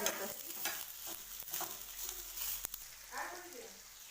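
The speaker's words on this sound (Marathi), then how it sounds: "आता आपला कांदा भाजून झालेला आहे" Chopped onions fry in oil in a pan, giving a steady close sizzle with stirring scrapes mixed in, while a voice talks over the cooking.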